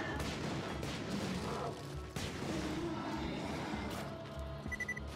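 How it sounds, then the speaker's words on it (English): Rapid bursts of rocket-launcher fire from an assault-style launcher in Borderlands 2, loud and dense with repeated blasts and explosions crowding the scene, a brief break midway and several sharp reports near the end. "It's like a little assault rocket launcher."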